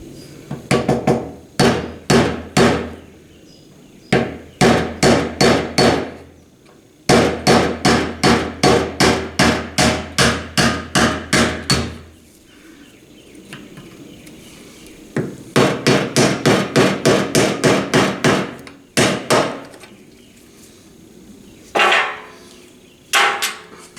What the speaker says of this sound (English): A little hammer and screwdriver will probably do the trick for us.